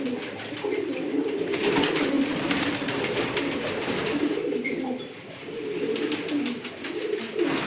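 Pigeons cooing in a low, repeated rolling murmur while being bathed by hand, several birds close by, with faint splashes and soft rustling mixed in and no speech.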